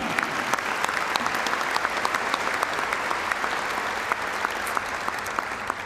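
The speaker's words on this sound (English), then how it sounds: "They deserve a round of applause." Dinner guests at a golf hall of fame induction dinner give a round of applause, dense sustained clapping from a roomful of people, even and steady throughout with no talk over it.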